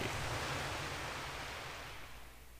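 Rough sea in the video game Elements Destiny Ancient Powers, a loud continuous wash of surf and rushing water that fades slightly toward the end, with no talking.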